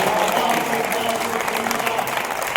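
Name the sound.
audience applause at a poetry gathering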